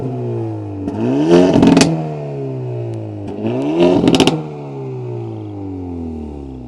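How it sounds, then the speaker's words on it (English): A 2024 Hyundai Elantra N performance sedan revs its engine twice while parked, each exhaust blip climbing sharply with crackles and pops at the peak, then settling back to a steady idle burble. The sound is close and loud, with no talking. "these lovely exhaust outlets, which pump out a surprisingly awesome exhaust sound"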